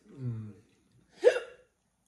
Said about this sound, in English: I got like goddamn hiccups.